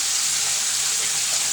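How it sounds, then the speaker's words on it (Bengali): Onions and green chillies sizzle steadily with potatoes in a hot pan, a continuous close, bright frying hiss with no voices. "পেঁয়াজ কাঁচামরিচ দিচ্ছি, এটির সাথে আলু দি ভাইজা নিমু"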